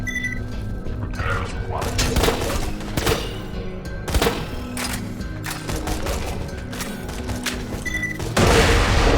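Railgun fire from Borderlands 2 cracks out as a dense string of loud, punchy shots with booming impacts and mechanical clatter, closing on a harsher burst.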